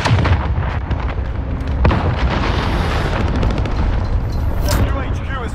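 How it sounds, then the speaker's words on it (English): Dense, loud explosions and gunfire from a cruise missile strike on the Rust map in Call of Duty Modern Warfare, heavy booms rolling continuously with rattling shots, and a game voice talking over them. "Allied cruise missile on way."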